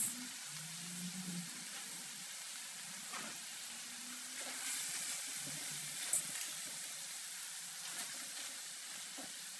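Mung beans and pork sauté in a pan with a faint, steady sizzle and some soft stirring scrapes, heard quietly throughout with no voices.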